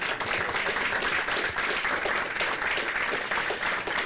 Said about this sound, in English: One big round of applause for our Hawk Heroes of March, our empathetic students.